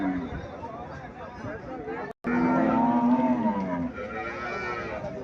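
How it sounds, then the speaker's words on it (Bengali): A Friesian cow at a cattle market in Chandimura, Comilla, gives long, loud, close moos over a background of voices and crowd babble. "এখানে একটা গাভী দেখা যাচ্ছে।"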